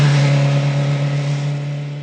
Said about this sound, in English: this one's got sort of a rumbly sound to it